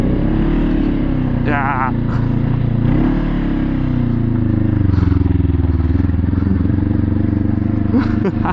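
A big bike motorcycle fitted with an aftermarket exhaust pipe rumbles with a deep, steady engine drone while riding, its pitch shifting slightly, as a voice briefly speaks over it.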